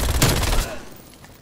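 Video game shooter gunfire comes as a quick burst of loud shots that fades away within about a second.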